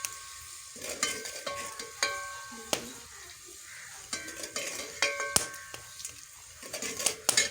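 Masala frying in a pan as water is added and stirred, with a steady sizzle and repeated scraping, clinking stirs of a spoon against the pan, close and fairly loud.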